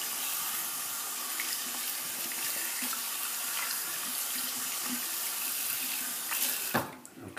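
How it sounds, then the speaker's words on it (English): Tap water running steadily into a sink while shaving soap is rinsed off, a loud close hiss that carries for several seconds and then cuts off near the end, with no speech. "I'm going to rinse off the soap"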